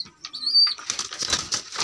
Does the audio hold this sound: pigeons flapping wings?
yes